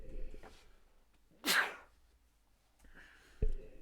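A person sneezes once loudly up close, a sharp burst after a faint breath, with quiet breathing sounds and a soft thud around it.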